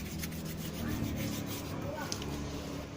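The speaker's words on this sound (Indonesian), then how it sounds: "saya contohin pakai amplas saja, amplas yang halus ya guys, jangan sampai baret" Brake pad being rubbed by hand with fine sandpaper, a soft continuous scratchy rasp, close but quiet, with no talk over it.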